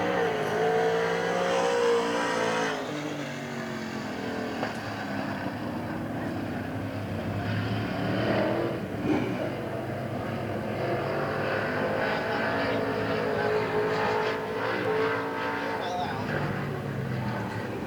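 Race cars circle Hagerstown Speedway, their engines making a continuous roaring drone that swells and fades slightly as they pass, under steady commentary from an announcer.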